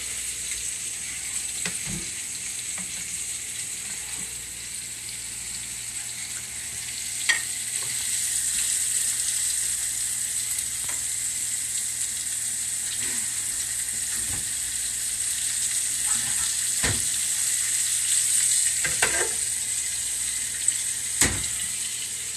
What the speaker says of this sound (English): Now, while those medallions are starting to cook